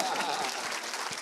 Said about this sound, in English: please go ahead and clap